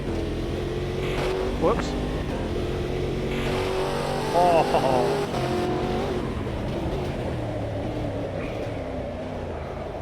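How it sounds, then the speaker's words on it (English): A McLaren P1 engine revs and drifts in a racing video game, with a droning, shifting engine note running under brief spoken exclamations. "No, 4-wheel drifting a P1. We'll listen to the engine in a second."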